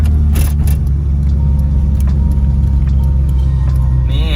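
A car engine drones loudly and steadily while driving in third gear on the road, close and continuous, with a few brief clicks and a rising whine at the end.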